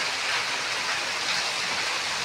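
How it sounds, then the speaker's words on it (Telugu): A downpour falls hard and continuously during a gusty storm near a house and trees, a thick, steady wash of noise with no talking. "మాకైతే ఫుల్ వర్షం పడుతుంది, ఫుల్ అంటే ఫుల్ వాన వస్తుంది"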